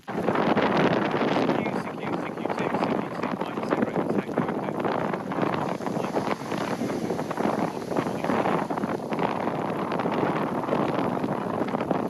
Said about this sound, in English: It's raining quite a bit, it's windy, it's incredibly cold